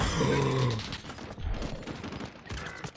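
Call of Duty Warzone gunfire, a rapid burst of shots at the start followed by quieter rattling fire and mechanical clatter over about three seconds.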